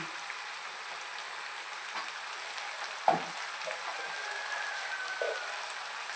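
Brinjal and broad beans fry in a pan with a soft, steady sizzle and one brief clatter from stirring partway through.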